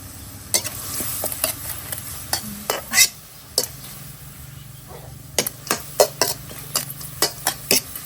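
Cicada larvae stir-fry in a little oil, a soft continuous sizzle broken by a string of sharp, irregular scraping clatters from a utensil against the pan, close by and without talk.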